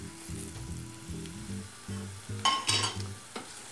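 Tomatoes fry in a pan for a sea bass dish, a steady close sizzle with occasional stirring scrapes and a few sharper crackling bursts toward the end.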